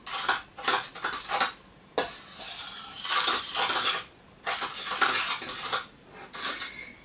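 A utensil scrapes and clinks around a bowl, stirring egg and vegetable oil for pie dough in repeated bursts, with brief pauses between stirring strokes; close and fairly loud, with no voices.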